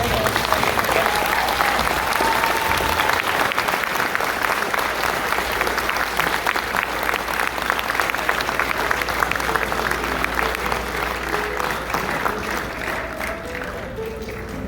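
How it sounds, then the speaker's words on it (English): Sustained applause from a large crowd at a comic-con Q&A in Niagara Falls, steady and dense throughout, tapering slightly toward the end. "Please give a warm welcome. A round of applause."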